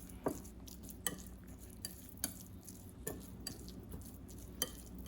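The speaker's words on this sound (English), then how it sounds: "smash and mash them properly" Canned sardines are mashed in a bowl, and a utensil taps and scrapes against the dish in faint, roughly regular clinks about once a second over a quiet background.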